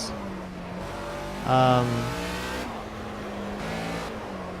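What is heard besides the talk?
racing car engine revving in video game Project Cars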